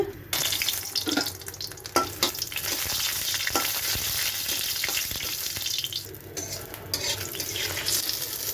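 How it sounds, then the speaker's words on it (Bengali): Dried red chilies fry in oil for a potato mash, giving a continuous crackling sizzle with occasional stirring clinks, close and fairly loud, with no voices. "তখন আলুটা ছিলে মরিচ ভেজে নেব। মরিচ ভাজার জন্য তেল দিয়ে দিচ্ছি।"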